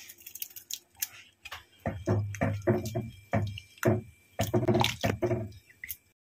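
A pot of chicken stock with bone-in chicken, cabbage, salt and olive oil boils on a gas stove, giving irregular close bubbling pops and soft ticking splutters in uneven clusters, with no voices.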